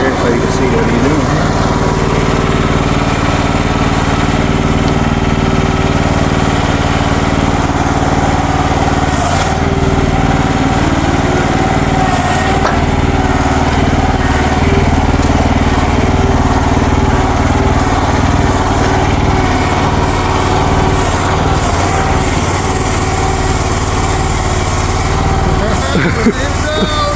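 A mini excavator, MX15RX or Future FT15, runs with a steady droning engine throughout, loud and close, with a few knocks and clanks from the machine working.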